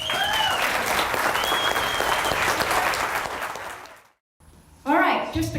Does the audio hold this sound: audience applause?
yes